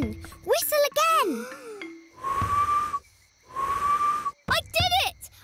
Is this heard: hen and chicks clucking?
no